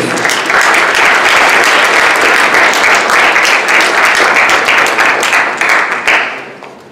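Loud, dense crowd applause at a youth science forum, steady and full for around six seconds, then tapering quickly toward the end.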